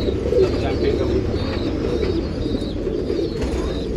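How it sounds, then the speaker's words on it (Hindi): Desi champion pigeons of a single breed coo steadily in a close, busy loft, with a low continuous murmur of overlapping calls and faint chirps throughout. "देखो दोस्तों, देसी कबूतर और स्टैंडिंग देखो उनकी"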